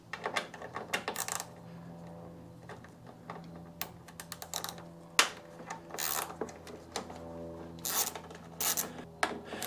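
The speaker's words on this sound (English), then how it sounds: "So we're going to get that T25 and we'll take those bolts loose." A T25 Torx driver loosening bolts on a 2024 BMW 1250 GSA motorcycle, heard as scattered close metallic clicks and short rasping turns, separated by quiet pauses.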